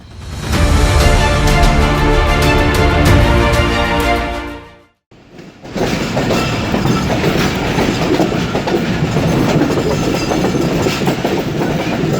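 A passenger train running from Karachi toward Rohri Junction rumbles loud and near with rhythmic clickety-clack of wheels on rail joints, a brief drop in sound midway, then a steady roar of carriage noise.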